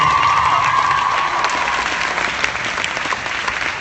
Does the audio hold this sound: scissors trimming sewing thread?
no